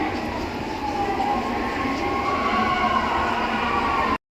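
A commuter train rolls along with a steady, loud rumble and rattling of the carriage, a faint wheel squeal drifting through, continuous until it stops suddenly at the end.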